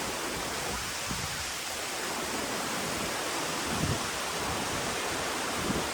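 Continuous roar of water cascading down Gordale Scar waterfall between two cliffs, a dense broadband rush that stays steady throughout with no voices.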